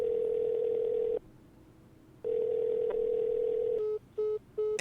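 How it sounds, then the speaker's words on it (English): A phone call rings after dialing: two long, even ringback tones with a pause between them, followed by a quick run of short beeps, clear and close. "She dials her phone, and to my surprise, it starts ringing."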